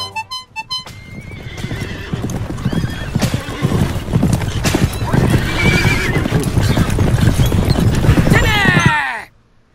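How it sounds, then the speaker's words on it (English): Horse hooves clip-clop steadily and a horse neighs loudly near the start, in the South Park: The Stick of Truth video game, with a busy, fairly loud mix of game sounds around them until the clip cuts off abruptly. "the sounds of the horses and shit"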